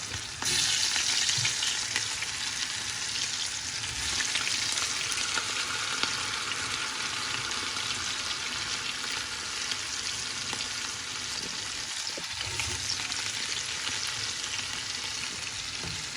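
Snapper fish frying Jamaican style in a pan of hot oil, a dense, steady sizzle that holds at an even loudness throughout, close up and with no talking.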